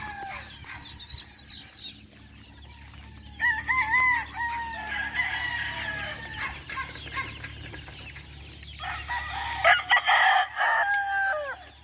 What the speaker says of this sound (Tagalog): Dami natin sisiw